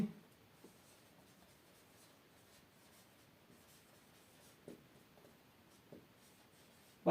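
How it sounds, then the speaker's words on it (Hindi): Soft scratching and tapping of writing on a board during a Class X mathematics lesson, faint and intermittent, with a few louder taps. "यहाँ पे लिखेंगे"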